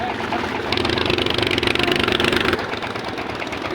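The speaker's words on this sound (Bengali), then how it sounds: "এইবার তো অনেক স্পিডে যাইতেছে স্পিড বোটের মতন" A boat engine drones steadily at speed on a river where the Meghna meets other rivers, running loud and close throughout with a slight surge in the middle.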